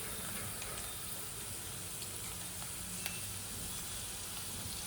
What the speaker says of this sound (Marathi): तेल सुद्धा चांगलं तापलं की त्याच्यामध्ये टाकायचं भरपूर सारा ठेचलेला लसूण